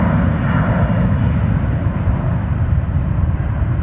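Southbound airliner at Austin Bergstrom roaring at full takeoff power, a loud, steady, dense jet rumble that fills the whole stretch without pause or talk.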